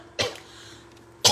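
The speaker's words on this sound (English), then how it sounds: "Coughing fit." Two sharp, harsh coughs about a second apart, close and loud, with quiet room noise between them.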